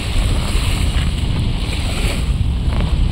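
Ocean waves wash continuously onto the Manila Bay shore, a loud, steady surf roar mixed with wind noise on the microphone.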